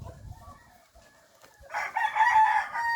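Speckled pet chickens with a rooster crowing, a loud sustained crow rising in the second half over a quieter background of clucking and farmyard ambience, with no talking.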